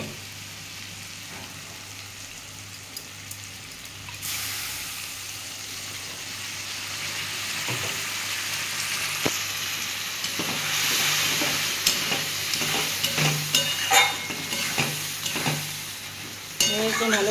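Peanut paste with a splash of water being stir-fried in a pan, a steady soft sizzle that grows louder and more crackly partway through, broken by scrapes and knocks of a spoon against the pan.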